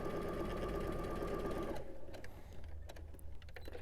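A sewing machine with a quarter-inch foot stitches a quilt block in a steady, close whirring run that stops partway through. Quiet handling noises and faint clicks follow.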